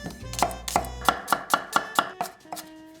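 Half a white onion is chopped with a knife on a board: about nine sharp, evenly spaced chops, close and crisp, then a brief quieter tail with no talk.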